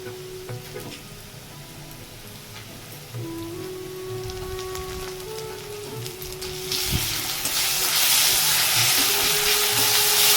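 Whole spices (garam masala) sizzling and crackling in hot oil in a home kitchen, a steady broadband fry that swells louder toward the end, with faint clinks and stirring under it and no talk.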